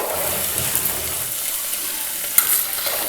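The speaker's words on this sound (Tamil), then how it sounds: "இந்த ஸ்டேஜில் நீங்கள் வெங்காயத்தை ஆட் பண்ணுங்கள்" Chopped small and large onions tossed onto golden frying garlic for egg kulambu, a loud, steady hiss and sizzle with a brief sharp clatter near the end, close with no talk.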